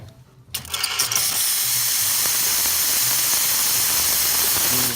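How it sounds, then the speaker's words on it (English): A loud, steady steam hiss from an Expobar espresso machine steam wand starts after a brief quiet moment and continues strongly without letting up, close and alone. "Let's test the steam."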